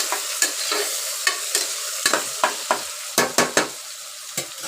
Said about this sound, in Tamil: அதுக்கு அடுத்துட்டு வெங்காயம், புதினா, பச்சை மிளகாய் இதெல்லாம் போட்டு வதக்கிட்டுருக்கோங்க